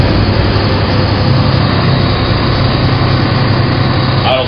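A riot control water cannon truck's engine drones loudly without a break, a heavy continuous rumble close by with no voices.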